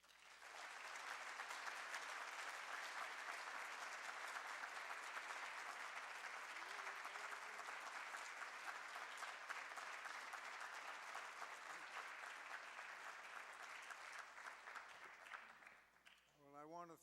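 An audience applauds warmly to welcome a judge at the 2009 Coffin Lecture, a steady, full hall of clapping lasting about fifteen seconds before tapering off as a voice begins speaking.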